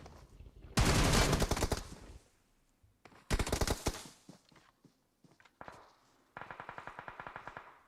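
Machine gun sprays in a PUBG esports tournament match: two long bursts of rapid automatic fire, then a shorter burst and a steady rattling run of shots, loud and close with brief gaps between.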